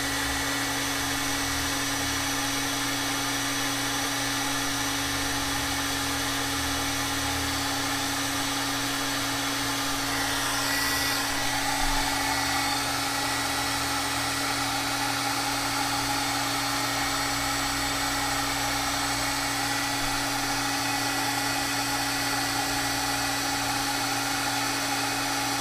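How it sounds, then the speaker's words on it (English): A blower at full power dries a mixed media art journal page, a steady close whooshing hum that runs the whole time with no talk. "we can turn the blower up all the way"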